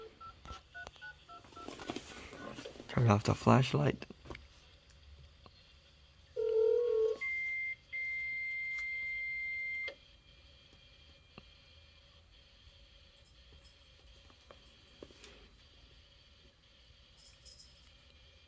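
A Canon MF260 series fax machine gives a short burst of tone dialing, then a brief beep and a long steady whistle as it connects and sends. Faint background noise and a quiet voice.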